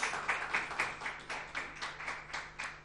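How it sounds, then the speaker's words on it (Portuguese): A church congregation claps in a steady rhythmic beat for Jesus, crisp regular strikes about every quarter second, fairly distant and even throughout, with a faint low hum underneath. "Dê uma grande, grande salva de palmas a Jesus"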